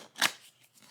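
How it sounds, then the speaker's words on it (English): A single quick snip of scissors cutting through a Lenovo sticker sealing the top of a Lenovo Legion M600s gaming mouse box, crisp and close in an otherwise quiet room. "at the top, there is a Lenovo sticker that we're going to cut"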